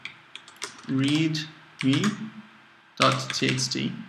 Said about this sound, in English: So I will type